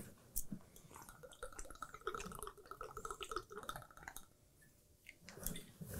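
Two ounces of gin is poured for a breakfast martini, making a faint, close trickle and glug of liquid into a measure over a few seconds. The setting is otherwise quiet.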